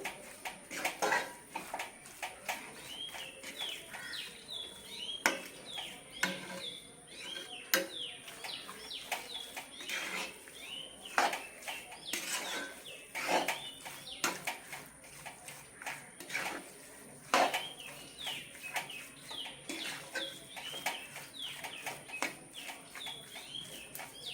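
Beef vindaloo masala being stirred in a cooking pot for a traditional Kerala recipe, with close, repeated metallic scrapes and clinks of a spoon against the pot in an uneven rhythm.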